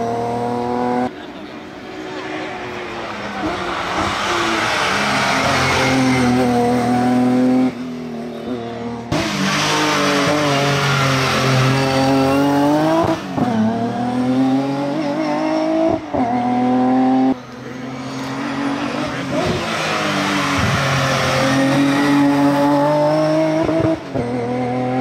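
A BMW race car, including a BMW M3 E30 Group 3 historic car and a BMW 325, accelerates up the Jaizkibel hill climb. The engine is loud and sustained, with rising revs and repeated gear changes and some faint tire squeal.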